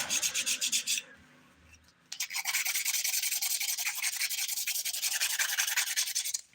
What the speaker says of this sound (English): I am filing the surface of my nails with the 180 grit side of this file.